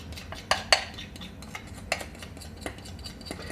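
Prawn crackers drop into a frying pan with a few sharp clinks and rattles against metal, then lighter scattered taps and scraping, close and moderately quiet.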